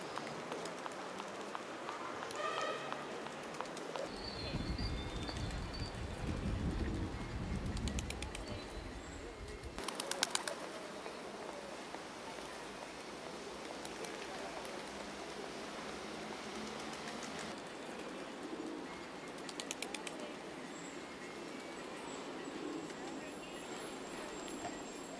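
Pigeons flocking around a replica Bolivar sculpture in a central plaza in Bogota, cooing and fluttering under continuous outdoor city ambience and traffic, with a burst of wingbeats midway and people talking throughout.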